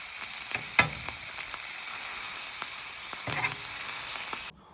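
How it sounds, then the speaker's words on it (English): Steady broadband sizzle of beef searing in a hot frying pan, with a few louder scrapes and pops, continuous until it cuts off abruptly near the end. "we're just sealing the meat to get some colour on it"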